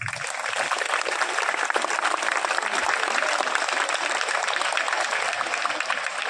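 A crowd at an outdoor police anniversary rally gives sustained applause, a dense, even clapping texture that carries steadily at moderate loudness without letting up.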